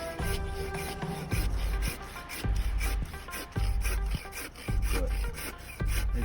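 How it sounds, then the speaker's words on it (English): A Silky Big Boy 2000 360 folding handsaw cuts through a still-green log in regular back-and-forth strokes, each a rasping woody rub with a thump at the turn, close and steady with no talking. "we're using hardly any pressure on the saw to cut through this log. It's somewhat still green."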